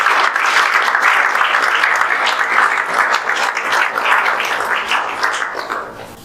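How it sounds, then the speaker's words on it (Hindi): Enthusiastic audience applause at an event celebrating JEE Main 2024 results, steady dense clapping from a crowd throughout, loud and continuous without speech. "जोरदार तालियां बजा दीजिए"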